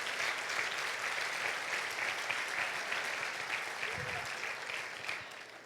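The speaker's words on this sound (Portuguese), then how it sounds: "Dê para Jesus uma forte salva de palmas." Church congregation giving a strong round of applause for Jesus, a dense, steady roar of clapping that fills the room and eases slightly toward the end, a voice briefly heard beneath it.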